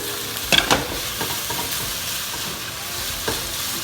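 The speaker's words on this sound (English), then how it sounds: "So we can stir until the pork almost cooked through." Pork being stirred and fried in a pan for an egg roll bowl, with a steady sizzle, a couple of sharp utensil scrapes early on and another light scrape near the end.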